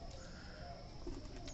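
Pigeons coo softly on a rooftop on a cold winter morning, a steady low murmur of several birds close by, with one brief louder coo near the end.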